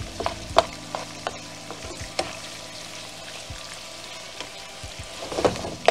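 Garlic shrimp sizzle steadily in a hot pan on high heat, Spanish style, with scattered scrapes and clinks of stirring over the continuous frying hiss.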